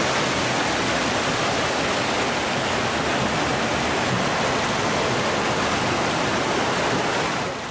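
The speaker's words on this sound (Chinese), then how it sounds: "海水好像瀑布咁涌入内街" Seawater gushing over the riverbank into a village street like a waterfall during Typhoon Hato, a loud, constant broadband roar of rushing water that barely varies throughout.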